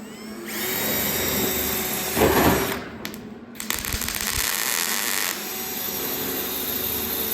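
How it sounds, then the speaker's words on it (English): A power drill whines loudly and continuously while drilling a hole in a metal crossbar of a classic Porsche, briefly pausing and bogging down before grinding on again at close range. "drilling the hole so we can drill through or weld through"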